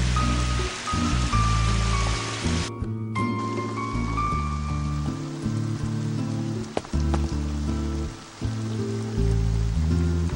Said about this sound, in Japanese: 雨が降り出した。